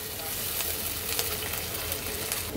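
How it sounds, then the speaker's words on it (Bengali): Onions frying in a pan for a cauliflower and flat bean bhaji, a steady close hiss of sizzling oil running evenly throughout with faint stirring. "তো চলো আগে পেঁয়াজটা ভাজা হোক"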